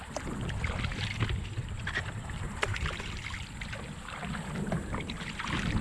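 An 11-foot DIY foam-and-fabric kayak is paddled on water at Sugar Land Memorial Park, giving a steady wash of water and splash noise mixed with wind buffeting the microphone, with no talking.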